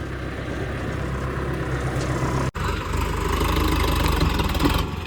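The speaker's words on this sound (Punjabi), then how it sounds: "ਵਾਹ ਹੌਲਾ ਟਰੈਕਟਰ ਆ ਯਾਰ ਇਹ ਵੀ" A diesel tractor engine idles nearby with a steady low chugging rumble, briefly cutting out midway before resuming, no talking.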